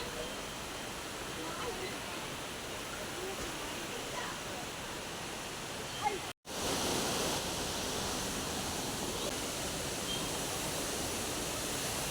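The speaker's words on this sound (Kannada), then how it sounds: "ನೋಡಿ ನೀರು ಎಷ್ಟು ಚೆಂದ ಹರಿತಾ ಉಂಟು" Water rushes steadily at the stream by Nellitheertha cave temple, a dense, even roar that is briefly cut by a moment of silence midway and then resumes slightly louder, with faint voices mixed in.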